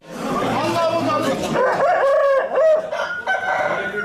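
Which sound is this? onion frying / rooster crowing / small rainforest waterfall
rooster crowing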